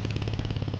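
A motorcycle engine idles steadily close by on a roadside, with an even, rapid low thumping and a mechanical clatter throughout the short stretch.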